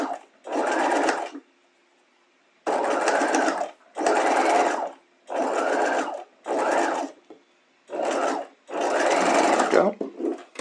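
A sewing machine stitches a Hong Kong seam finish in seven or eight bursts of rapid whirring, each lasting about a second. Short quiet gaps separate the bursts.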